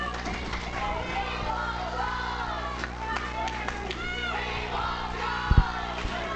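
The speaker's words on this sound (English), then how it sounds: "crowd chanting, they want Josh" A wrestling crowd at a tag-team match chants steadily for a wrestler, a dense, continuous roar of voices with commentators talking over it and a brief sharp thud near the end.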